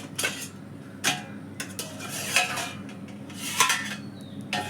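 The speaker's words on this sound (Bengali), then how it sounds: "আমি এটাকে এবার নামিয়ে নিলাম। নিয়ে এর ঢাকনাটা এবার খুলি।" A metal momo steamer is lifted off the heat and its lid opened, giving several sharp clanks and scrapes of metal on metal spaced irregularly over a quiet kitchen background.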